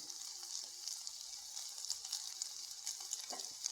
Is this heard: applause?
no